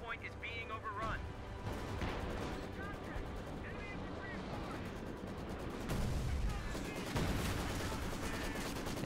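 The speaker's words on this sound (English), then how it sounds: "Artillery just coming down, slowly beating back the Axis forces, trying to hold this choke point" In a Company of Heroes 2 battle at a choke point, artillery shells and machine gun fire crackle and thud in a dense, continuous din, with heavier impacts swelling toward the end while a voice talks over it.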